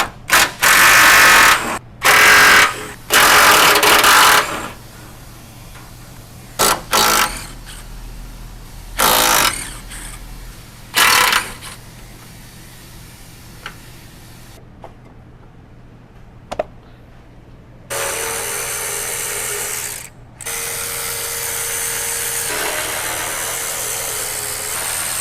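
A ratchet with a 12mm socket backs out bolts under a 2010-2023 Toyota 4Runner 5th gen, giving loud, close bursts of rapid clicking. Quieter metallic handling fills the gaps, and a long run of steady ratcheting follows near the end.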